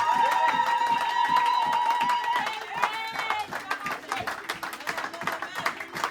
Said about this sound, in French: On peut lui donner une acclamation.